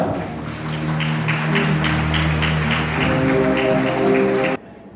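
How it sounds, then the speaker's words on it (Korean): Sustained applause from wedding guests greeting the bride's entrance at a Korean wedding hall in Ansan, a steady dense clapping with music beneath that holds for several seconds and then cuts off abruptly. "박수 부탁드립니다"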